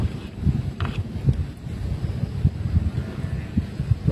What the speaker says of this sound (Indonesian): Buktinya angin bertiup kencang